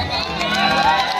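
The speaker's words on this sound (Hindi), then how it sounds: "एक बार इनके लिए जोरदार ताली बजा दीजिए।" At a stage show, an audience sends up a brief, dense burst of cheering and clapping, loud and continuous throughout.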